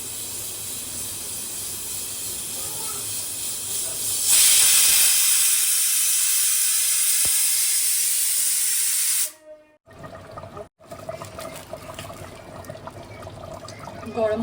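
Pressure cooker full of Bengali-style mutton curry sending out a loud, sustained steam hiss for several seconds, which cuts off abruptly, leaving quieter kitchen sounds and faint noise afterward.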